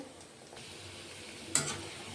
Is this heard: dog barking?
no